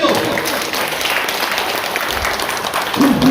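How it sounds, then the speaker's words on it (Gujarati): Enthusiastic audience applause at a yoga event held at a temple, dense steady clapping filling the space for the whole moment, with a faint voice briefly audible near the end. "આપણા બધા માટે એકવાર જોરદાર તાળીઓ."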